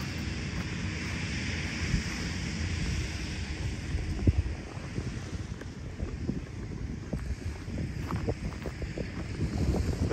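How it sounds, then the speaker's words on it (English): Steady wind roars across the microphone on a hurricane-damaged beach at Delnor-Wiggins Pass State Park after Hurricane Ian, with low rumbling gusts and surf noise filling the whole stretch without letup. "A little windy here, sorry."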